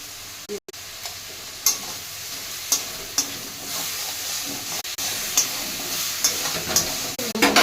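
Green chilli, ginger, salt and turmeric fry in oil for a pumpkin curry, making a close, continuous sizzle with regular scraping stirs and light taps of a spoon against the pan.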